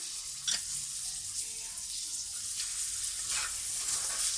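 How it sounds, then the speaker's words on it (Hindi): One medium onion, chopped, sizzles softly in a pan for a chicken noodle soup while it is stirred in. A low, steady frying hiss carries a few brief scraping swishes of the spoon. "अब इन्हें हम अच्छी तरीके से मिक्स कर लेंगे।"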